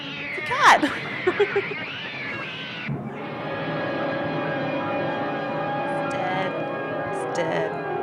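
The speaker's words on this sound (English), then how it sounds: "It's obviously a cat." A cat meows and caterwauls in a recording, several sharp wavering cries early on, then a sustained droning background with faint high tones later.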